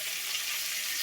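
Hilsa fish from the river sizzles in hot oil in a village kitchen, a steady, even hiss that fills the short moment with no voices.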